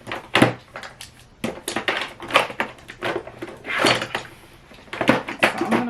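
Vanity drawers holding a makeup collection slide open and shut again and again, a close run of wooden scrapes, knocks and rattling contents with no speech over it.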